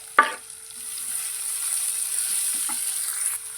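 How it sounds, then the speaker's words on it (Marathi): Chopped onions sautéing in a pan for a spicy Maharashtrian brinjal bharit give off a faint, steady sizzle, opening with a sharp stirring clatter and followed by a couple of soft scrapes near the end. "हा कांदा पण आपल्याला व्यवस्थित परतून घ्यायचा"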